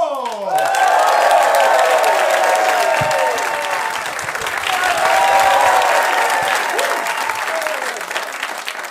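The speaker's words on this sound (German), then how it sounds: "begrüßt ihn bitte mit einem besonders warmen Applaus" Warm applause and cheering from a German comedy club audience as a newcomer stand-up comedian takes the stage, loud and continuous, with whoops and shouts rising over the clapping throughout.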